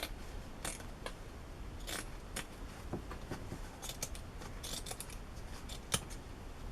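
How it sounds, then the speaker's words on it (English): Scissors snip through a microfiber sponge scrubber pad, cutting it in half: a run of sharp, close, crisp clicks and slices at an irregular pace against a quiet background. "Now I'm just going to cut it in half."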